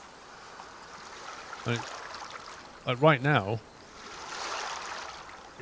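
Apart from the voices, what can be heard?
water lapping at the seaside, from the video game Way of the Hunter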